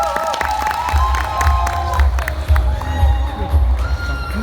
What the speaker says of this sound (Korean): 너무 환호를 해주시니까 자신감이 막 생깁니다